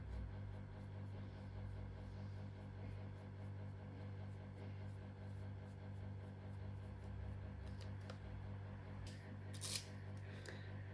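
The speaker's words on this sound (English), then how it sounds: "I'm just sharpening my eyebrow pencil just to make sure that it's nice and sharp for the eyebrows" An eyebrow pencil is turned in a small sharpener, giving a steady, faint, fine scraping over a low hum, close up and with no talking.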